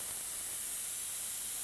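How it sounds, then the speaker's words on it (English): Candy dye sprayed from an airbrush over candy gives a steady, close hiss of airflow, continuous and uniform with no talk. "And we are spraying right over candy."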